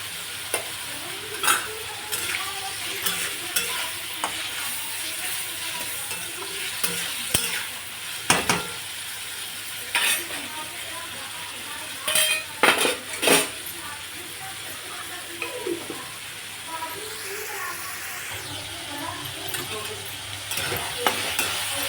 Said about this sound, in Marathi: आपण एकदा हलवून घेऊ.